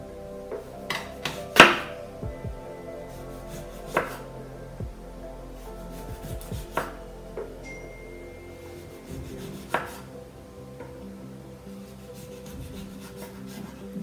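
Knife slicing a lemon into rounds on a cutting board, giving scattered soft taps and rubbing strokes, close and fairly quiet, with no talking.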